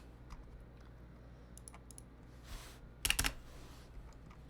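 Quiet typing on a computer keyboard, a few scattered keystrokes and then a short louder burst of clicks, heard close with faint room noise.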